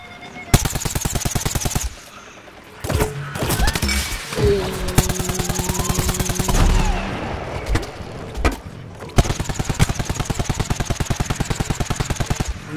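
Rapid automatic gunfire rattles in tight bursts in a zombie shooter video game, several loud close volleys separated by pauses with thuds, clanks and other game effects.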